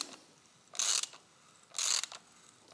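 A ratchet with a 22mm socket tightens a rear brake caliper part on a Yamaha XJR 1300 motorcycle, two short close bursts of rapid clicking separated by a quiet pause.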